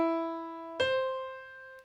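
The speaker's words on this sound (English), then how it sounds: "And the minor sixth, it sounds like this." Two sustained, piano-like tones played one after the other outline a minor sixth. The first note rings steadily, then a second note attacks near the middle and decays smoothly, with a faint noise at the very end and no speech.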